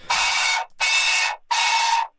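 Three loud, sharp bursts of synthesized noise from a Kling Klong preset noise oscillator, each about half a second long, separated by brief silences, with a fourth burst starting at the end.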